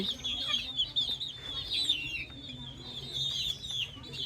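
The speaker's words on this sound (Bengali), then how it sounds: "ওরা দেখেন কত সুন্দর করে আমটা খাচ্ছে" Chickens cluck and chatter while pecking at pieces of mango, a busy run of close, repeated clucks over low background noise, with no speech.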